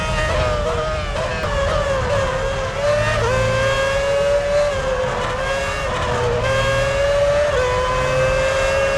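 An F1 race car in a racing video game, set at Monza, screams away from the pits. The loud, high engine note climbs and dips through gear changes without a break, with no talking.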